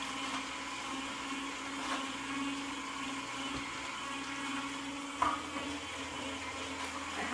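A Juico Uno juicer presses celery for green juice, giving a steady motorized whir and grinding hum throughout, with a short clunk partway through.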